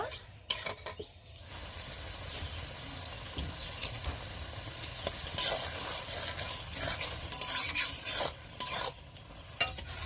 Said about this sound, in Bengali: তরকারির মধ্যে গরম মশলাটা দিয়ে লাভিয়ে নেব